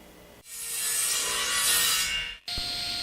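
A table saw on a crosscut sled with a 90-degree cutter trims squared, planed wooden boards to length, giving one loud, sustained whining cut of about two seconds that stops abruptly, followed by a steadier hum.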